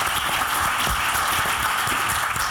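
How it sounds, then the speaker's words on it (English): Audience applause for forum speakers at a women's basketball event, a steady dense wash of clapping that holds at an even level throughout without rising or fading. "So round of applause for our speakers."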